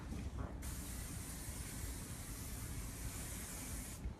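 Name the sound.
spraying sheen hair spray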